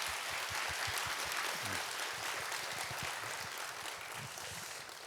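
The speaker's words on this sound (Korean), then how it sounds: "다시 한번 영광의 박수를" A church congregation at a Wednesday worship service bursts into sustained applause, a loud, dense roar of clapping that holds steady and eases off slightly at the end.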